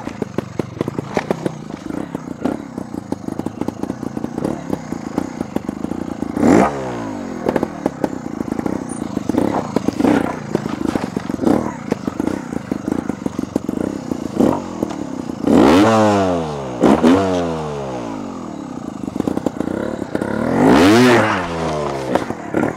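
Vertigo R3 300 two-stroke trials motorcycle revving in bursts, sharp rising and falling engine blips over a steady idle, close and loud with some clattering.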